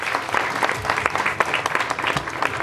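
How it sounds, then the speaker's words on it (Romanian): A short burst of applause, close and lively, with many hands clapping together. "Aplauze."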